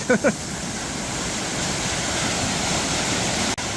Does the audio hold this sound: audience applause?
no